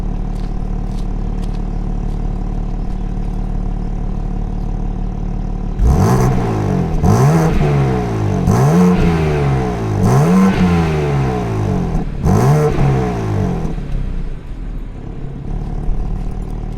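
A 2023 BMW M2 idles steadily, then its exhaust revs loudly in about five sharp bursts, each rising and falling, with a low rumble between them.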